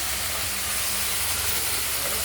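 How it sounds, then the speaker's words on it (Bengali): Okra hitting hot oil in a pan, giving a loud, broad, steady sizzle and hiss that holds continuously from start to end. "তেলটা ফেটে গেছে, ঢেঁড়সগুলো দিয়ে দেবো।"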